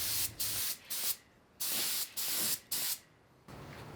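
Repeated bursts of aerosol spray lay blue paint onto a tank, each hiss running about half a second with short pauses between passes, close and fairly loud.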